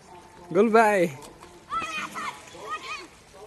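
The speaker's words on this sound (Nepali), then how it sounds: "हाम्रो यहाँ हान्दियो डुब्की हान्दियो" A boy dives into the water with a short, close splash, while children's voices shout and talk over it.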